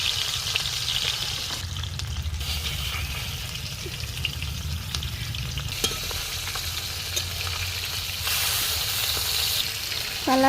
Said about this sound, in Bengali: এবার আমি এই মাছগুলো ভেজে নিচ্ছি।